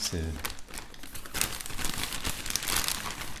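A small plastic packet of Pokémon cards is handled up close and crinkles almost constantly, with bursts of crackling. A person talks in the background.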